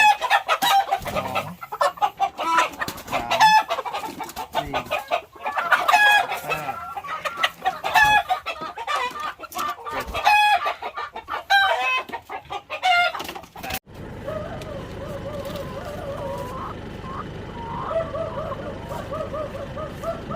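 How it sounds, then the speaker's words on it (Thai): Young laying hens cluck and call repeatedly, close and busy at first, then quieter and more scattered as the setting changes; a few voices are heard. "คุณผู้ชมไก่ของเราก็มาส่งแล้วนะครับ"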